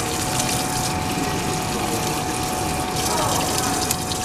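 Water gushes steadily through a beer keg coupler being rinsed, a continuous rushing, splashing flow that stays even throughout.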